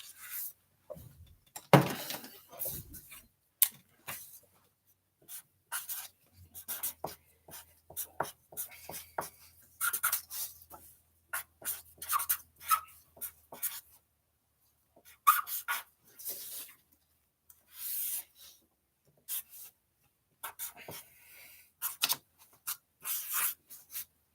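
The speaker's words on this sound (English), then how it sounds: "I need to write down some stuff real quick so I don't forget." Pen on paper: quick, close scratchy strokes in irregular bursts with short pauses, with no talking.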